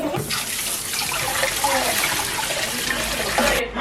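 Running tap water splashes steadily as shrimp are rinsed for gambas in a home kitchen, a close, continuous gush lasting a few seconds before cutting off.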